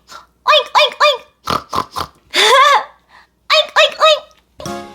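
Pig oinking on a farm, a run of repeated grunting oinks in short bursts, likely voiced by a person imitating the animal, close and clear.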